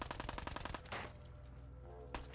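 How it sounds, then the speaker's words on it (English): Rapid bursts of automatic gunfire from the video game Fallout rattle in a quick rhythm, then break off into a few scattered single shots over a low background rumble. "Stop shooting at Preston Garvey."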